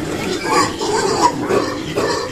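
Pigs grunt and oink up close in a farm pen, a run of short repeated calls at a fairly even rhythm with no talk over them.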